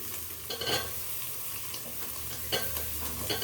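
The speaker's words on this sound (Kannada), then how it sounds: "ಇವಾಗ ಬ್ಲಡ್ ಆ್ಯಡ್ ಮಾಡ್ತಾ ಇದ್ದೀರಾ?" Blood frying in a pan makes a soft, steady sizzle, with a few scraping stirs of a utensil against the metal close by and no talking.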